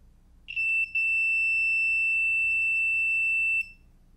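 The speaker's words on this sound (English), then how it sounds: "If we press the switch, the multimeter no longer beeps" A multimeter in continuity mode, probing a switch's pins while building a 3D printer, gives a loud, steady high-pitched beep. After a couple of short stutters it holds for about three seconds, then stops, with no talking.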